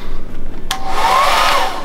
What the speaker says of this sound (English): Okay, maybe we're going to have to use a hair dryer.